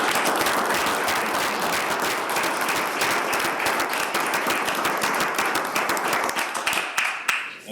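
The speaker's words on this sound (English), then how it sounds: "how about a round of applause for Amanda Rickenberg?" Sustained applause from the audience at a school board meeting, dense steady clapping for about seven seconds that thins out and fades at the end.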